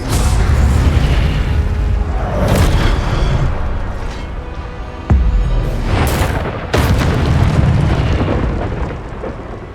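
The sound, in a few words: Expelliarmus spell cast in video game Hogwarts Legacy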